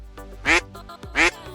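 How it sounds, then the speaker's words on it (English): A duck quacks twice in a quick pair of loud, raspy calls, close up, with soft low background noise between them. "A duck's quack doesn't echo."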